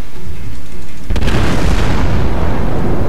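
Main guns of the battleship USS Arkansas firing in a naval video game, one loud deep boom that breaks in partway through and rolls into a long rumbling tail over steady engine noise.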